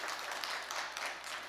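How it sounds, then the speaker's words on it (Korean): Korean church congregation applauding a choir, a soft, steady wash of clapping from across the sanctuary, faint and even with no talking over it. "우리 가브리엘 중참단에 큰 박수 한번 보내드리겠습니다."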